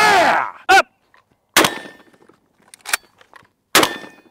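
Shotgun blasts at a steel target on a range: three loud, sharp shots spaced apart, each followed by a metallic ring from the struck steel. A voice is heard briefly at the start.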